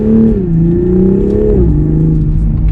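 A 2021 Toyota Supra's engine pulls loud and steady as the car accelerates, its pitch climbing, dipping briefly at a shift, then rising again, with no talking over it.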